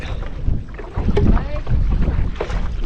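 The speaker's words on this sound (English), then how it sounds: "Trying to paddle with one hand and hold this" A boat is paddled one-handed on water outdoors, with close splashing paddle strokes and dripping water over wind rumble across a few seconds.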